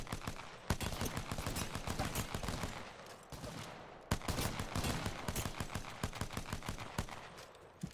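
Sustained rapid gunfire in a video game, with dense bursts of automatic shots that break briefly twice before resuming, loud and continuous.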